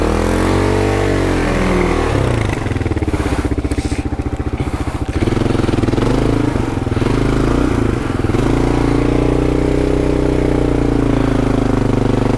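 A motorcycle on Bridgestone AX41 adventure tyres revs hard as its rear wheel spins in off-road mud: a loud, close, sustained engine roar that surges and dips in pitch, with the motor droning throughout.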